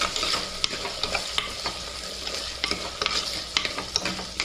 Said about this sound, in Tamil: வெங்காயம் பூண்டு கருவேப்பிலை போட்டு இதை நல்லா வதக்குறேன்